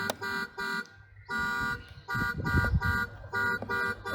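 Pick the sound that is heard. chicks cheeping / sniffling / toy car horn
toy car horn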